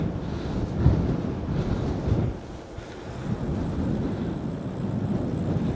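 Heavy, steady wind buffets a DJI Mic Mini clip-on microphone fitted with a third-party wind muff while cycling on a breezy day, a continuous low roar with a few louder gusts.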